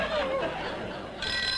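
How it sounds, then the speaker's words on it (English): A telephone rings in a 1960s television comedy scene, a bright ringing tone heard up close with brief chatter and light laughter in the background. "Your telephone is ringing."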